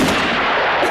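A gunshot from the western film The Good, the Bad and the Ugly rings out as a loud, booming, echoing blast that fills the whole brief moment.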